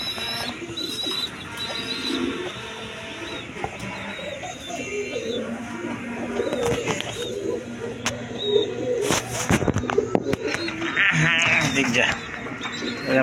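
A pair of big-sized lotan pigeons in a pigeon market coo in soft, repeated, throaty bursts, close by, amid background chatter and shuffling noise.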